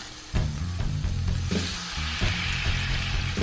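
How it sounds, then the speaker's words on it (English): Hot dogs finished in beer on a hot grill top sizzle loudly and continuously, a close, dense frying hiss with small pops and stirring movements, and no voices. "they were finished on the grill top with beer. Just listen to that sizzle."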